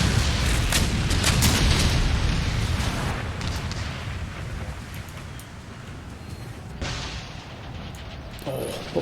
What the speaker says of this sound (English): Let's get those guns firing